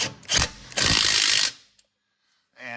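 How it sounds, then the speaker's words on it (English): A ratchet wrench tightens the brake caliper bolts on a 2008-2013 Toyota Highlander during a rear wheel bearing job, giving two close bursts of fast clicking and then a brief pause. "I got the 2 caliper bolts started. We're just going to tighten those."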